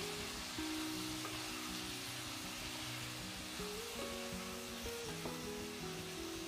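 Cluster beans and potatoes are stirred in a hot pan, with continuous soft sizzling and frying and light scraping under faint background music, no talk.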